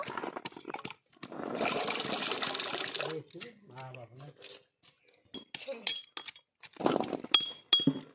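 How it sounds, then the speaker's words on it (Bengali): Peeled kul (jujube) fruit washed by hand in water in a bowl, with sloshing splashes and light clinks against the container, broken by short pauses and some talking in the background. "ওটাগুলো ছাড়িয়ে নিয়েছি, এখন ধুয়ে নেব।"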